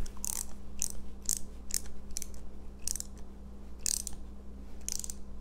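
A Craftsman socket wrench ratchets in a steady series of crisp, close clicks, about eight short bursts spaced evenly over a few seconds, with no talk.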